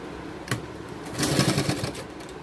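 A sewing machine stitches the front neckline of a baby gown: a single click, then about a second of busy mechanical stitching that rises and fades, with no talking.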